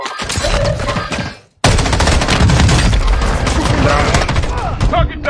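Sustained, loud automatic gunfire in an online multiplayer shooter game, a dense rapid volley that breaks off briefly and then resumes with heavy, continuous shots and impacts.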